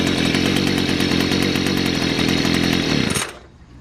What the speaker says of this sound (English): This trimmer does have a clutch. It seems to work pretty good.